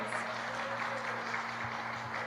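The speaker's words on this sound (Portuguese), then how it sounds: "Você pode dar uma salva de palmas para eles?" Audience applause in a Portuguese-language talk on God, family and people: a steady, even wash of clapping at moderate level, filling the room continuously with no voices over it.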